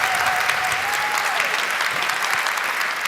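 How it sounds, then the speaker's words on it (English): An audience at a talk gives a dense, sustained round of applause to welcome Mark Gatiss, loud and steady throughout with a few whoops rising above the clapping. "please give me a huge round of applause for Mark Gatiss"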